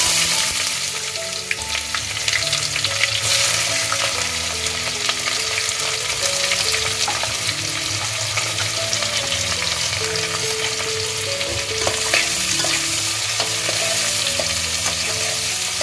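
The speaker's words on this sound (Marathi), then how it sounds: "कांदा चांगला लाल करायचा आहे" Chopped onion sizzles loudly and steadily in a pan for prawn biryani, stirred throughout, with a dense continuous frying hiss and faint scraping over nearly sixteen seconds.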